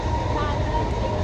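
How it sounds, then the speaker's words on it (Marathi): Steady rumble and rattle inside a moving train heading toward Badlapur, a continuous loud low-frequency drone filling the whole moment without break. "आता आम्ही ट्रेनमध्ये आहोत, जस्ट निघालो आहे"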